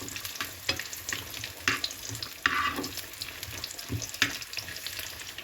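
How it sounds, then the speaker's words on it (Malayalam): Cashews and raisins fry in a pan for a Kerala vegetable stew, a steady crackling sizzle broken by sharp pops and stirring scrapes. "അണ്ടിപ്പരിപ്പ് ഒന്ന് മൂത്ത് കഴിയുമ്പോൾ അതിലേക്ക് നമുക്ക് കിസ്മിസ് ഇട്ട് കൊടുക്കാം"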